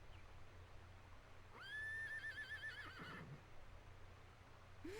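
A horse neighs in the Dragon Quest 8 video game, one clear whinny of about a second over a steady hum of game background sound, with a short rising call near the end.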